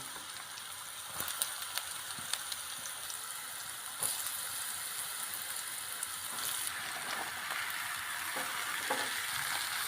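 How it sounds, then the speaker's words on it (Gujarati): Ridge gourd sizzles and crackles steadily in hot oil in a kadai, with occasional sharper pops and stirring sounds over a constant hiss. "હવે આપણે ગલકાના ફોડવા આ તેલની અંદર કકડવા માટે નાખી દઈએ"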